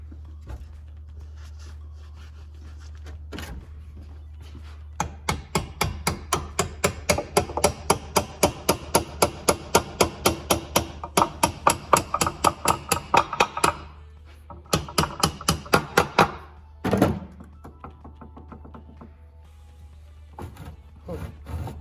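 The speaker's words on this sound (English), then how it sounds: "I just kind of tapped this one in with the hammer" Steady hammer taps driving a metal spacer into a Ford 8.8 axle housing in a quick even run, several bursts of rapid strikes separated by short pauses, close and loud.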